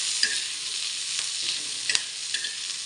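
Onion roasts in a hot pan with oil, a continuous close sizzle broken by a few soft stirring scrapes, no voices.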